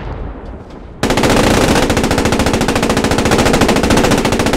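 A tank's machine gun fires in the Post Scriptum World War 2 game, a loud, close, continuous rapid burst of evenly spaced shots that starts abruptly and runs without pause, with no talking.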